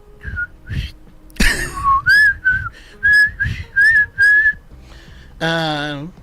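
A person whistles a tune of clear, sustained notes rising and falling in a steady melodic run, with a short breathy pause before a final higher, buzzy whistled passage, close and fairly loud.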